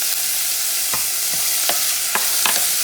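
Olives and pumpkin being stirred into sizzling sofrito for Puerto Rican pink beans, a steady frying hiss throughout with a handful of short spoon scrapes against the pot, close and clear.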